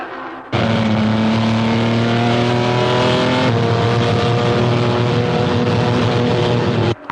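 Racing cars speed around a race track, their engines a loud, sustained roar that holds steady and then shifts pitch partway through, with no talking.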